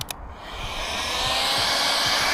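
A heat gun blows on light bar mounts atop a Ford Transit camper van roof, opening with a couple of clicks, then a steady airy whoosh that rises and holds loud and close.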